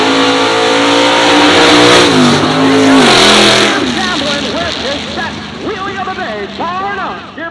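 A 1969 Chevy C10 pickup with a 565 big-block engine roars hard as it launches at Byron Dragway, revving loudly, then fades down the strip while a crowd and announcer chatter over it.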